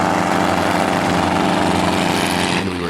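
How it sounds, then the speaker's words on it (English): Helicopter engine running close by, a loud, dense, steady mechanical roar with a fast rhythmic chop, holding constant before a brief shift near the end, with no voices. "we've also recorded helicopters."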